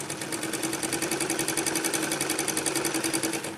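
A sewing machine stitches a Patiala salwar in a fast, even run of needle strokes, close and steady for the whole stretch with no talking.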